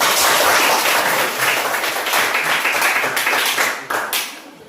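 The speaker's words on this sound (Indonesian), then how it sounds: "Tepuk tangan" A classroom group claps for fellow students after a presentation, brisk, fairly close hand claps forming a lively patter that thins and tapers off near the end.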